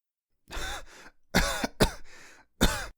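Several harsh coughs and throat-clearing bursts in close succession, near and loud, separated by short silences.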